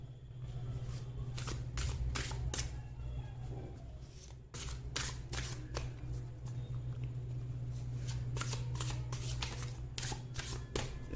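A deck of tarot cards is shuffled again and again, crisp riffling bursts repeating over a low steady background hum, close and fairly quiet, with no talking.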